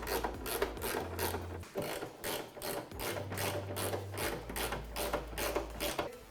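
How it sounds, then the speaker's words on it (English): A 10 mm socket on a ratchet tightens hood latch bolts on a 2015-2017 Mustang GT, a close, quiet run of rapid clicking strokes repeating in a steady back-and-forth rhythm with no talking. "Tighten them down with the 10mm socket that we just used."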